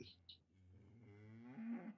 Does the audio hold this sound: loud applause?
no